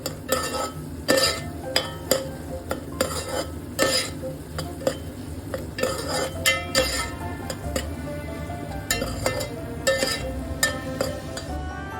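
Crab masala spices stirred in a pan with a metal spoon, a string of irregular scraping clinks and knocks against the pan over a soft sizzle, close and fairly loud, no talking.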